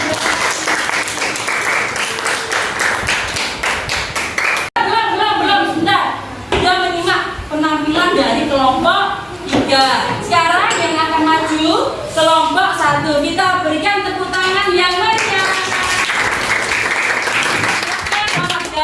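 An audience in a classroom teaching assessment session claps, a dense burst of applause opening the clip before a voice cuts in and talks over fainter scattered clapping.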